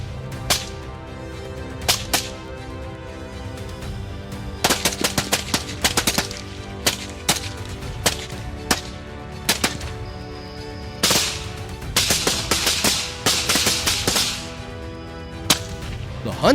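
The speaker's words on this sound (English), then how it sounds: "I managed to adjust my rifle and fire in rapid succession." A hunting rifle fires at a fleeing wild boar, with sharp, loud cracks coming singly and in quick bursts of several shots at irregular intervals.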